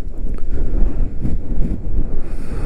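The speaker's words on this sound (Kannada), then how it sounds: "ಫುಲ್ ಜೋರಾಗಿ ಗಾಳಿ ಬೀಸ್ತಾ ಇದೆ" Strong wind buffeting the microphone on the foggy Kote Betta hilltop in Coorg, a loud continuous low roar with gusty surges, close and alone.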